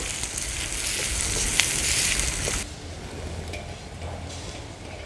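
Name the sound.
onion with green chili and ginger-garlic frying in pan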